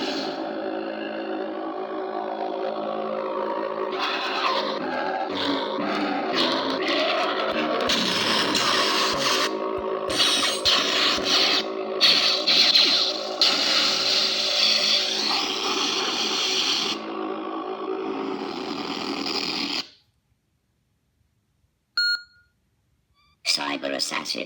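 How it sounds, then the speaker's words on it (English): Necro lightsaber sound font played on a Prizm 5.1 saber board: a harsh, gritty, crackling hum with swings and clashes, loud and continuous, then abrupt silence with a few faint electronic blips. "This is Necro, one of the most evil sounding sound fonts I have."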